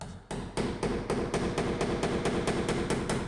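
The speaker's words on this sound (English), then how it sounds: "so I'm just going to chisel this down" A chisel driven by steady, loud hammer blows shapes the wood around a drilled latch hole while a pocket door is installed, about a dozen close strikes in an even, quick rhythm.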